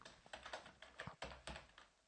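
Soft, close keyboard clicks as C++ code is typed, a quick irregular run of keystrokes with short gaps and no voice.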